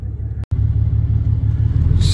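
A Ram pickup truck's engine rumbles steadily at low revs while pulling and reversing a short trailer loaded for gravel, a close, heavy drone with a brief cut and a slight lift near the end.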